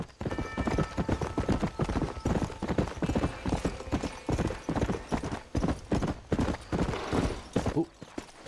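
Steady clip-clop of horse hooves pulling a carriage in the Red Dead Redemption video game, a continuous rhythmic trot close by with brief whinnies and little talk.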